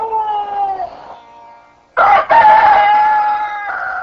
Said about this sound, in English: cursed the crowing roosters